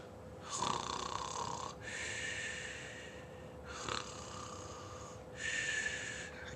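A voice imitates a bear's snoring: four long, rasping snore breaths at a steady, slow rhythm, close and moderately loud, with no talk.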